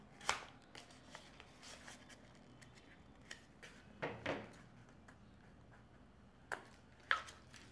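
Scissors snipping through a folded katori blouse paper pattern, a few soft scattered clicks and short crisp cuts, close but quiet, with no talk.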